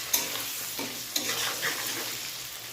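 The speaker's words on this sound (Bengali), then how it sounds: "আমি এবার এতে জিরের গুঁড়ো, ধনের গুঁড়ো দিয়ে দিলাম, দিয়ে হালকা ফ্রাই করলাম" Cumin and coriander powder fry in oil in a pan while a spoon stirs, a soft steady sizzle broken by a few sharp scraping knocks against the pan, close and without talk.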